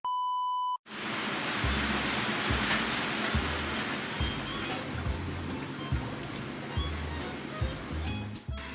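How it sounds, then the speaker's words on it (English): After a short electronic beep, heavy rain pours down steadily in rural China, a dense, even hiss of drops striking surfaces close by. A few brief knocks and faint voices sound underneath. "The rain is unrelenting"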